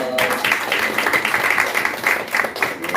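A Korean church congregation claps together after a prayer, a lively, close burst of applause from many hands with a slightly uneven, pulsing texture, continuing steadily for a few seconds.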